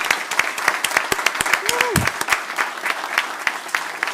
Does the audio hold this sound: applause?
yes